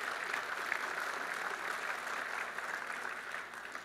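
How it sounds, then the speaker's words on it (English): A keynote crowd at a tech conference gives a faint, even wash of distant clapping that holds steady for a few seconds and fades slightly at the end. "yes, please clap"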